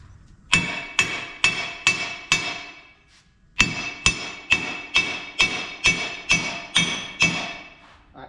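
Sharp metallic hammer blows seat bolts on the rear axle of a Ford Bronco, close and ringing. A run of about five evenly spaced strikes, a short pause, then a longer steady run of about ten more.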